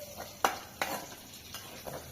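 A metal spoon clinks and scrapes against a cooking pot as fried meat is tipped into lentils in a home kitchen, giving a few sharp knocks followed by softer stirring scrapes, close and fairly quiet.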